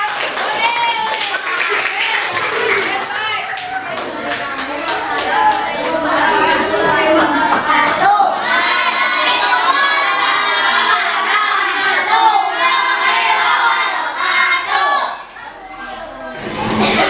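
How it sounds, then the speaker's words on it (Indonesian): Schoolchildren in a fifth-grade classroom clap and cheer for a group, with lively shouting and chatter from the kids spreading across the room before the noise briefly dips and picks up again. "Tepuk tangan untuk kelompok 4."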